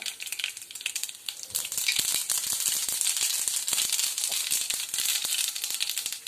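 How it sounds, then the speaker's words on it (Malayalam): Mustard seeds crackle and splutter in hot oil, a dense stream of sharp pops over a steady sizzle, close and fairly loud. "ഞാൻ കടുകിട്ട് പൊട്ടിക്കുക"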